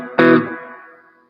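A single distorted electric guitar chord, played live in an attic, is struck once and decays with a gritty, reverberant tail over about a second.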